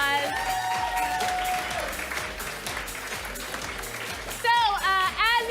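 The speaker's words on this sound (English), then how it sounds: "Everyone give them a round of applause." Audience applause at a live improv show rises under a speaking host and music, then grows louder toward the end with cheering voices.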